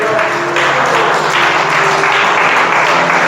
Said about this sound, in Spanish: Den un aplauso a Dios.